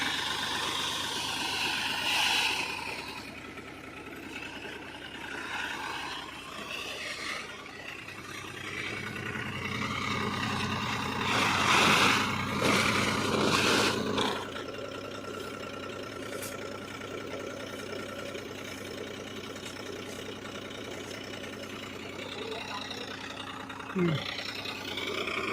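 A New Holland 3600-2 tractor runs steadily with a seed drill during wheat sowing, a continuous mid-low engine drone heard close by, with a louder surge partway through and people talking over it.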